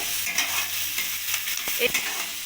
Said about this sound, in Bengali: এবার আমি পেঁয়াজ কুচিগুলো দিয়ে দিলাম পেঁয়াজ কুচিটাও আমি লাল করে ভেজে নেব আদা আর রসুনের সঙ্গে